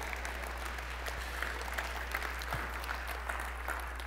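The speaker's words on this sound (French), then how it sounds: "tu peux applaudir" A church congregation claps through a short sermon pause, a soft, fairly distant patter of scattered applause lasting about four seconds over a low steady hum.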